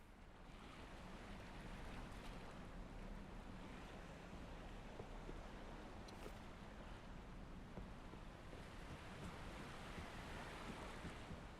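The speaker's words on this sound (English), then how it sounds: "These are gentle waves as well." Gentle harbour waves in the sailing game Ships at Sea make a soft, steady wash of surf with a faint wind-like hiss, quiet and unbroken throughout.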